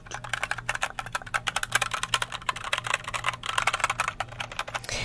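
Rapid clacking keystrokes on a mechanical keyboard, close and steady, in quick uneven bursts with no talking.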